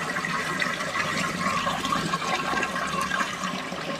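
Water gushes from a borewell pipe set up as a drinking-water source, a steady, close rushing and splashing stream that runs continuously at moderate loudness with no voices over it.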